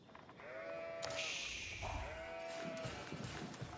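Sheep bleating in a strategy video game, two clear drawn-out bleats one after another at moderate volume, with faint game sounds around them and no talk.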